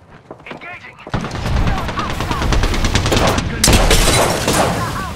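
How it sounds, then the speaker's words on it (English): Enemy gunfire in the Apex Legends battle royale game, rapid bursts of automatic shots crackling over several seconds after a brief quieter opening, with a player's voice speaking amid the shooting. "They're shooting at me?"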